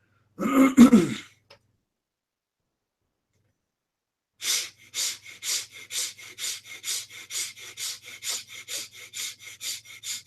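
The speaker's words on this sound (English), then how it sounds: "Quicken the fast breathing, but keep your focus deep inside the forehead." Rapid rhythmic breathing during a meditation exercise, about a dozen quick forceful breaths in an even pulse after a brief throat clearing and a silent pause, close and clear.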